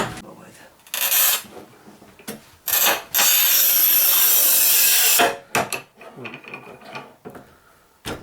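A power saw cuts through a damaged ceramic tile in bursts, with a long loud steady grinding stretch in the middle and short cuts before and after, while people talk nearby between passes.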